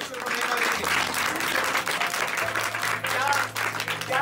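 A congregation at a lay leaders training seminar in Delhi claps loudly and continuously, a dense sustained applause with a voice briefly audible beneath it.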